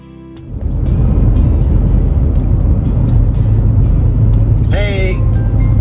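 A car interior on the road carries a steady low engine and road rumble that rises as it gets going and holds for several seconds, with a brief high chirp near the end.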